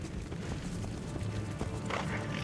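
A horse gallops in the video game Assassin's Creed Brotherhood, with quick, soft clip-clop hoofbeats over a low rumbling background, moderately faint and without speech.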